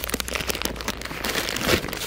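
Plastic packaging around an outdoor faucet cover being opened up close, a steady run of crinkling and rustling with a louder tearing swell near the end and no voices.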